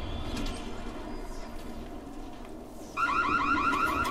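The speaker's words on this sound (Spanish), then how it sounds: "creo que saltaba una alarma al abrir" A door alarm in Dying Light starts suddenly partway through, a loud repeating warbling electronic beep that cuts in over low background ambience and continues to the end.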